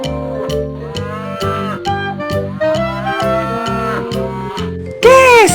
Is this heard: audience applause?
no